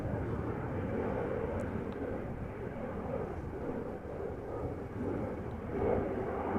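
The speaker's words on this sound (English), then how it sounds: "Embraer 190. KLM flight 1641." A KLM Embraer 190 airliner climbs away from Amsterdam Schiphol Airport, a steady distant jet roar rising slightly toward the end, with light wind noise over the microphone.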